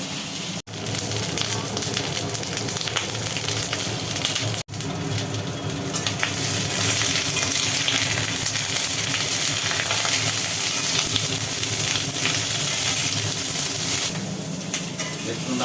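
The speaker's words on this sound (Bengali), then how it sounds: "চটপট চটপট করছে পটলের মধ্যে জল আছে" Pointed gourd frying in hot oil, a dense continuous crackle and spluttering close by from water inside the vegetable, with two brief dropouts early on.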